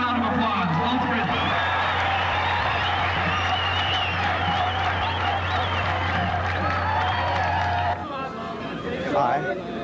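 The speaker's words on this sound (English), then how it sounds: "Let's give them a round of applause." A crowd cheers, whoops and applauds for Ultimate frisbee players, a dense, loud wash of clapping and shouting with voices mixed in that drops off sharply near the end.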